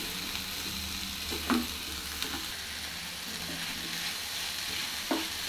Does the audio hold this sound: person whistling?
no